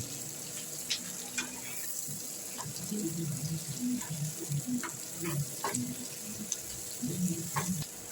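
Onion and capsicum fry gently in a pan, a soft continuous sizzle with light scraping and stirring knocks throughout, fairly quiet and close.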